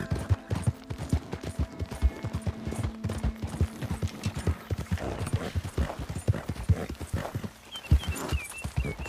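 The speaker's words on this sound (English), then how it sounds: "Of course, this horse is far faster than the one I had before." Rapid hoofbeats of a horse galloping in a western video game, a steady clip-clop rhythm close and loud, with an occasional snort, a faint tonal hum and no speech.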